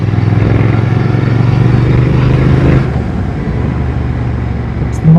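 A motorcycle engine, recently fixed of a bad idle, runs on a test ride, a loud steady mechanical drone that eases and shifts tone midway, then picks up again at the end.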